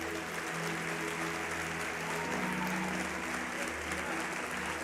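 A church congregation applauds during a sermon, a soft, continuous spread of clapping heard at a distance with a low sustained musical tone running underneath.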